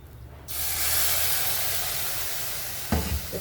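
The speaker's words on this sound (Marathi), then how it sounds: "थोडंसं दूध टाकून घेणार आहे" Milk is poured into a hot pan while making kheer, setting off a sudden loud, steady sizzling hiss that fills the clip, with a small clatter near the end.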